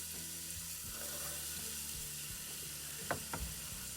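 Chopped red pepper and celery sizzle in melted vegan butter, a soft, steady hiss with light stirring taps and two brief clacks, faint and close, no talking.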